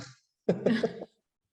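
A single short, hoarse cough breaks out nearby during an online video meeting, followed by silence.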